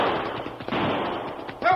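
Gunshots in an old Lone Ranger radio drama, a burst of rapid shots over busy dramatized sound, ending in a louder blast.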